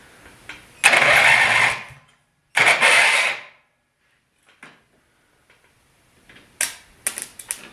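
A lawnmower's electric starter motor cranks the engine with the ignition switched off, in two loud bursts of about a second each, followed by faint scattered clicks and taps.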